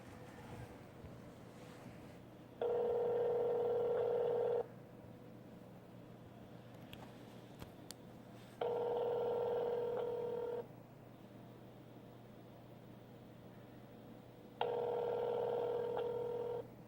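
A phone line rings while a call is placed: three steady electronic ringback tones, each about two seconds long, separated by longer pauses over a faint constant hum.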